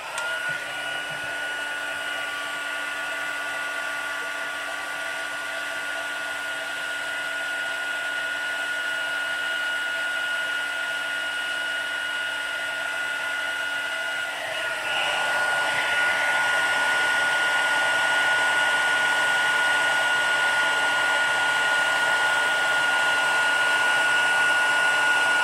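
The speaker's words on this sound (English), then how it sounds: "and then we'll heat up my embossing tool again" A heat embossing tool blows hot air in a steady, continuous whir, shifting pitch partway through as it is moved, close and loud with no speech.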